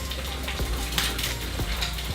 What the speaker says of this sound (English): So the eggs are cooking really well